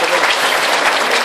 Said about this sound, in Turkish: Alkış istiyorlar.